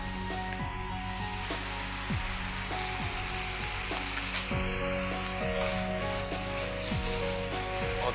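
Mushrooms stir-fried with soy and green chili sauces over a high flame sizzle loudly and steadily, with repeated scraping stirs of the pan throughout and no talking.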